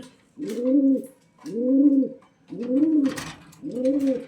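Four low, rounded coos from a nearby pigeon, evenly spaced about a second apart, each a soft rolling hum.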